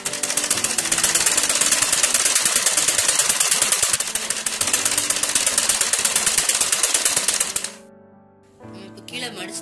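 A sewing machine stitches the folded-down hem of a circular palazzo skirt, a dense rapid mechanical chatter running steadily for most of the clip before stopping, followed by quieter sounds.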